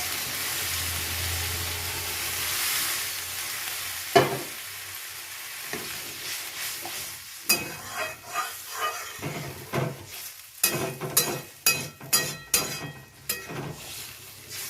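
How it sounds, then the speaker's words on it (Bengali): Hot water poured into a sizzling Bengali pointed gourd curry brings a loud hiss and steam burst, then a run of sharp clattering stirs and scrapes against the pan, close and without talk. "কষানো হয়ে গেলে এর মধ্যে আমি গরম জল দেবো। গরম জল দিয়ে দিলাম।"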